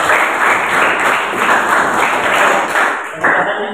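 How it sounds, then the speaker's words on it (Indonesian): Classroom applause for a student presentation comes as a loud, continuous patter of many hands close by, dipping briefly near the end before swelling again. "Oke, kita berikan tepuk tangan untuk"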